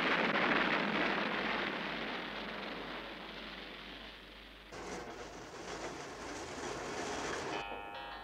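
Steady broadband rumble of a train running, loud and continuous, shifting in tone partway through with a brief higher ringing near the end.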